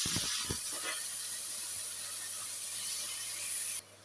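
Chicken dropped into a hot pan with browned garlic and onion for chicken sinigang, a loud steady sizzling hiss with a few clattering knocks at the start.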